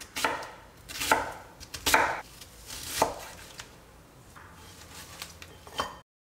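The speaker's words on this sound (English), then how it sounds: "So give it like a rough chop, nothing too crazy." A knife roughly chops onion on a cutting board while cooking oyakodon: about half a dozen sharp, uneven chops close by, with short pauses between strokes and no talk.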